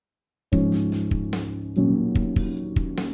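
A song plays with drums and piano as a MIDI example, loud and alone with no talking: piano chords sustain over steady kick and snare hits in a clear rhythmic pattern.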